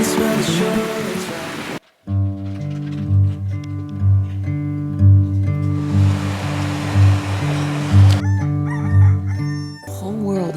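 A rooster crows its morning call amid steady sea and wind on a sailboat in the Sea of Cortez, the drawn-out crows rising over a rushing, surf-like background with brief breaks.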